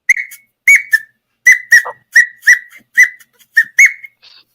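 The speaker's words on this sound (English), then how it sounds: "Just sounds like a whistle to me." Series of short, sharp whistled notes repeating in a quick, uneven rhythm, loud and close with brief silences between bursts; no talking.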